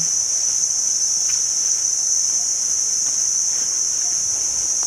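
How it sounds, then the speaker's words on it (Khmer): Cicadas or similar insects drone near a temple grounds, a loud continuous high-pitched buzz that holds steady throughout with no other sounds standing out. "លឺសំឡេងរៃណារៃកន្លែងដើមអនៅឯវត្ត"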